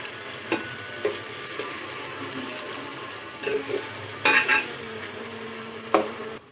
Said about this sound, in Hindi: ऑयल गर्म हो चुका है, इसमें मैं प्याज ऐड करती हूँ